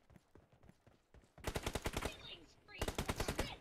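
Automatic gunfire from the PUBG video game sounds in two rapid bursts of closely spaced shots after a quieter opening, crisp and near, with headshots landing.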